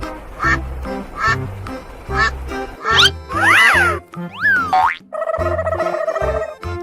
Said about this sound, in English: Quack, quack, quack.